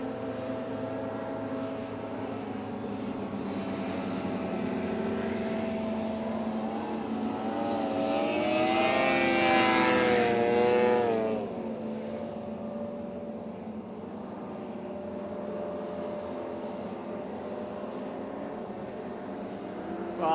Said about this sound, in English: Well, it looks like Adam's got that engine fired up.